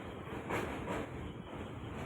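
A fast train rumbles past at moderate distance, a steady low roar with a brief swell of louder rattling midway, no voices.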